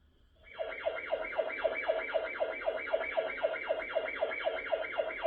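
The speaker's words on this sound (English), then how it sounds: "Then there's a siren." A security camera flood light made by INQMEGA, a dual-lens model, sounds its alarm siren loudly and alone, with a rapid, steady warbling up-and-down pitch that repeats evenly for several seconds.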